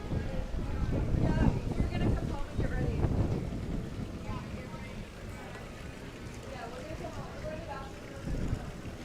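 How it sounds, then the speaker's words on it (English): Outdoor wind in Key West buffets a partly covered microphone, producing a loud, continuous low rumble with gusting surges throughout. "now you can probably hear the wind here"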